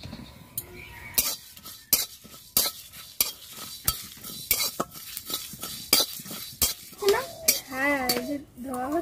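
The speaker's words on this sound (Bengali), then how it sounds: "এগুলো শুকনো খোলায় ভেজে নেব।" Whole coriander, cumin and dried red chillies are dry roasted in a pan, with a quick, steady rhythm of sharp metallic scrapes and clinks from the stirring spoon and a light dry rattle of seeds between strokes.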